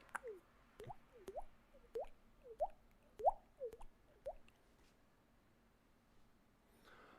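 A person vocally imitates dripping water, producing about eight short, rising liquid plops in a loose rhythm, close and fairly clear, with a few sharp clicks between them before the sounds stop.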